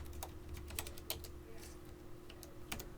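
Keys clack on a computer keyboard while network IP address settings are entered into a router's command line, with scattered quick keystrokes over a steady low electrical hum.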